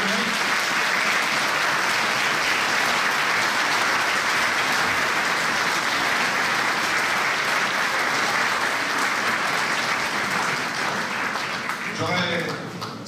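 Sustained applause from a large audience honoring firefighters and police during a mayor's New Year address, a dense, steady roar of clapping lasting throughout, with a brief voice near the end.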